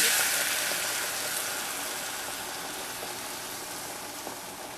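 Butter and heavy cream heating in a pot over medium heat, a steady broadband hiss and gentle sizzle that fades slightly, no voices.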